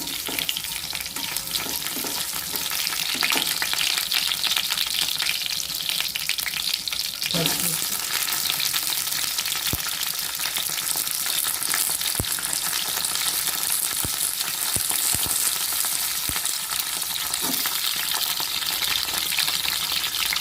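Coriander seeds fry in oil in a pan over a low flame, giving a steady, moderately loud sizzle with scattered clicks and stirring scrapes throughout, and no voices.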